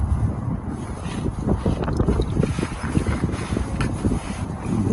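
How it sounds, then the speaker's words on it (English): Gusty wind rushes steadily outdoors near a car up on a driveway during a transmission oil service, a continuous low buffeting roar with fluctuating strength and no speech. "the wind's picking up"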